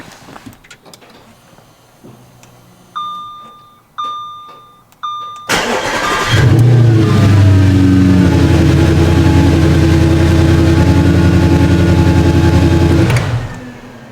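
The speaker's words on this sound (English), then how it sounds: "we're going to turn on the car" A 2011 Audi S5 starts up close by: three warning chimes, a brief starter crank, and the engine catches with a roar, settling into a steady loud idle before switching off.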